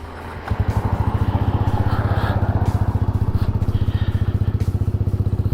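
A small motorcycle with an aftermarket Amazon exhaust starts up and settles into a steady, rapid idle with a loud, close, even putter and no talk.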